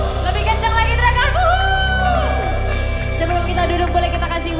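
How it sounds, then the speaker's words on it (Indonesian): A church congregation shouting and whooping loudly over pulsing low music, with many voices rising and falling together. "Sekali lagi tepuk tangan yang luar biasa pagi hari ini. Boleh sama-sama teriakan lebih kencang lagi"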